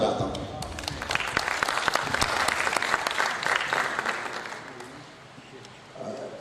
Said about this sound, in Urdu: آپ کے لیے میں تالیاں بجاتا ہوں